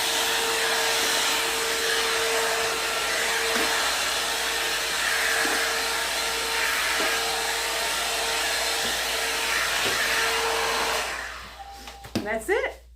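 A blowout brush dryer runs on natural hair with a steady, loud whooshing roar and a faint tonal whine, holding constant before cutting off near the end with a few handling clicks.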